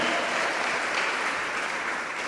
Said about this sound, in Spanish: Dale fuerte las palmas al Señor,